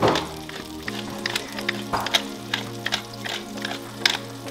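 A cheeseburger patty seasoned with salt and pepper frying in a pan, a steady sizzle punctuated by irregular dull thunks and clicks, moderately close, with no voices.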